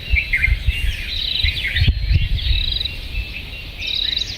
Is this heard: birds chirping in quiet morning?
yes